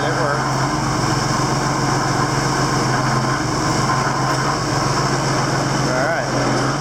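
A Westondorf loader's engine running steadily as it lifts, a constant droning hum with a faint whine, close, with people talking over it.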